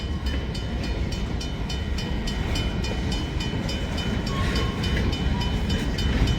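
An SD9 diesel locomotive leads a freight train north from the CN yard in Green Bay, a loud continuous rumble with rhythmic wheel clatter rolling past nearby.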